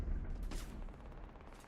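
Gunfire in the space game Starfield: a dense, muffled burst of rapid shots rumbling at low volume, heard at a distance in the background with no speech over it.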